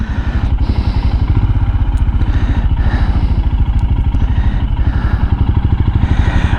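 Royal Enfield motorcycle rolling at low speed, its single-cylinder engine thumping in a steady, even rhythm, loud and close throughout with no voices.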